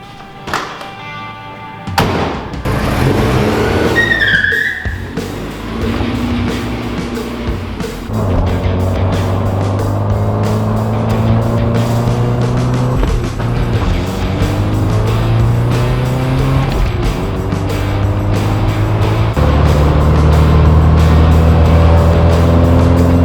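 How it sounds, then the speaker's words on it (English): Porsche 944 on new tires, a door thump and clatter at the start, then the engine idling and revving through several rising gear pulls, steady and close with a low drone under road noise. "So let's go for a drive and see how our new tires feel on the car."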